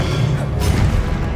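An Expelliarmus spell is cast in Hogwarts Legacy, a short loud crash and whoosh with a brief burst of energy over dense low rumble.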